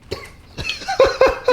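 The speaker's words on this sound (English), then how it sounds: "Just explain to the camera why we're coughing." Someone coughs from smoke after spices burned in a pan, a quick series of about four close, harsh coughs over a second and a half.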